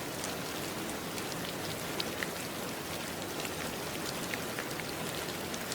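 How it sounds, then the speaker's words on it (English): Steady rainfall pattering on surfaces, a soft, even hiss with scattered individual drop taps, continuous and moderately quiet with no voices or thunder. "Rain drifted down from a quiet sky, soft and endless, tapping gently against the metal wing of a stranded plane."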